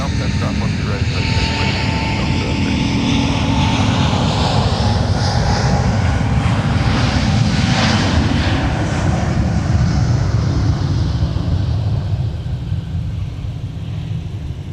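A heavy Airbus A350 jet airliner departs at an airport, its engines giving a loud, steady roar that swells and holds throughout, with a faint radio voice under the noise.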